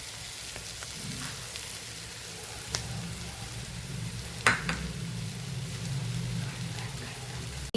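Soft, steady sizzle of green chillies frying in a pan with gram flour, a faint crackling hiss throughout, broken by a couple of louder clinks and a stirring scrape.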